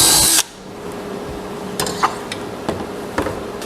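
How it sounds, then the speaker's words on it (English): A power drill boring a hole through a wooden camping tabletop: a short, loud burst of drilling that cuts off abruptly, followed by quiet handling knocks and small clicks. "I'm going to put another hole through the tabletop right down through there"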